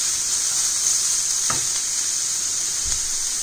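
Grated carrot, capsicum and other vegetables for momo filling frying on high flame, a steady close sizzle with a couple of faint scrapes as they are stirred.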